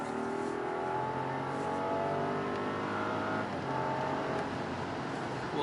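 Steady engine hum and road roar from a Rolls-Royce Ghost Series II while cruising on an open road, a smooth low drone that stays even with no voices.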